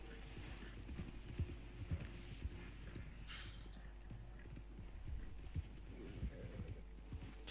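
Horse hooves clip-clop in a steady, trotting rhythm through the Red Dead Redemption Online game world, moderately close over a low hum of game ambience, with occasional brief background sounds.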